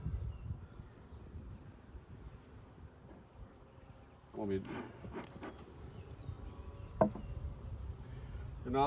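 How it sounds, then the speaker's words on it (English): Honeybees at a hive in an apiary set in a cow pasture, a steady soft buzzing drone throughout with a few brief louder passes of single bees close by and faint human movement. "it's like more bees than the last time I came out"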